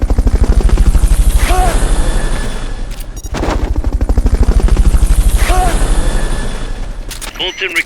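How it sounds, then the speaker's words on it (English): A helicopter's rotor beats loudly and rhythmically throughout a Fulton recovery in Metal Gear Solid Peace Walker. The steady chopping pulses are briefly broken by a short gap midway. "Fulton recovery subject confirmed onboard helicopter."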